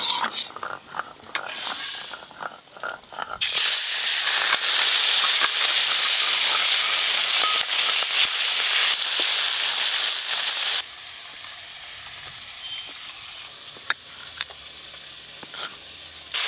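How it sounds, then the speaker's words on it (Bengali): Small fish fry in hot oil in a rural kitchen, a loud dense crackling sizzle bursting in after a few quieter knocks, holding strong for several seconds, then dropping to a softer steady hiss with scattered pops. "এবার এই ছোট মাছগুলো ভেজে নেব।"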